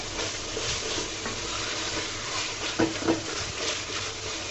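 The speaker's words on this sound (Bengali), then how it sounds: "মশলার সাথে ভালো করে নেড়েচেড়ে আমি মিশিয়ে নিব" Taro leaves (kochu shak) with spices and raw green mango stirred in an oiled pan, a steady close sizzle running throughout with a few soft scraping clatters of the spoon near the end.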